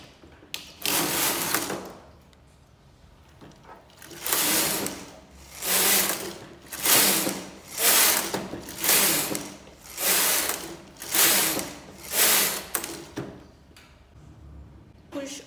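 A knitting machine carriage is pushed back and forth across the needle bed while casting on, making a series of rasping, whirring mechanical sweeps that swell and fade in a steady rhythm, close and fairly loud.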